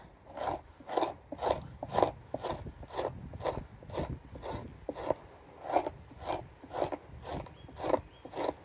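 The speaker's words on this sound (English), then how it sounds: "You hear that knife, that sound? That's the gristle." A knife rasping over gristle beneath the fat while fleshing an otter pelt, close and steady, repeating in a rhythmic series of scraping strokes roughly twice a second with no talk.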